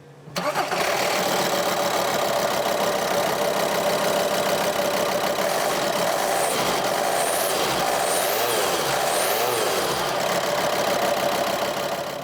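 A VW Transporter's 2.5 TDI diesel engine, recently repaired after camshaft and lifter failure, idles steadily and loudly up close, with a brief rev change near the end.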